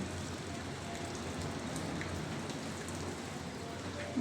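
Rain falls steadily outside a balcony at a Batangas resort. It makes a soft, even patter and hiss with scattered drops, fairly faint and uninterrupted, and no voices can be heard.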